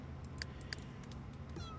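A cat in The Sims game, high on catnip, gives two short meows close together early on, then a softer, drawn-out call, all over a steady low game hum.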